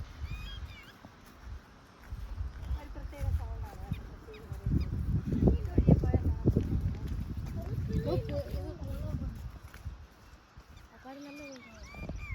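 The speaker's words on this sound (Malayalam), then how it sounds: "ഒന്ന് സൈലന്റ് ആക്കി ആ സൗണ്ട് നോക്കാം, കിളിയുടെ സൗണ്ട്." Birds call around a nature spot near the Ayyappan Kovil hanging bridge in Kerala, with repeated honking and chirping cries mixed under nearby voices talking.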